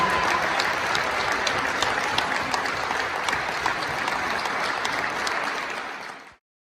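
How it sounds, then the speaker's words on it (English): An audience gives a round of applause at a high school basketball ceremony, dense, even clapping sustained for about six seconds before cutting off abruptly. "Let's please give Braden and his family a nice round of applause."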